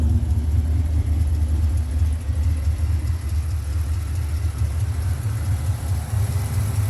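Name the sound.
1967 Pontiac GTO LS3 engine idling through stainless exhaust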